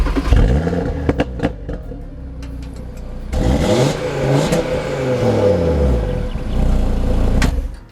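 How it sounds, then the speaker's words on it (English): Five-cylinder engine of a 2021 Audi RS3 revving through its exhaust, a burbly, raspy note that climbs and falls in several loud, close sweeps with clattering pops between them, no voices. "One appeal of the 5-cylinder engine is its burbly, raspy sound"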